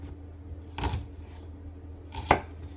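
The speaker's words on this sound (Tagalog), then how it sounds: "Hiwain lang natin ang shallots ng quarter size." Two sharp knife chops cut shallots into quarters on a board, spaced about a second and a half apart, close and clear against a quiet background hum.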